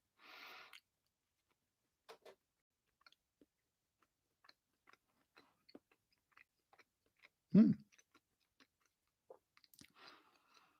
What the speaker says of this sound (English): I sooner like do this off camera because you don't really want to see me chewing,